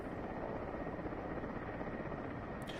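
Mi-8 military helicopters in a war zone, a constant dense rotor and turbine roar that stays loud and unbroken throughout.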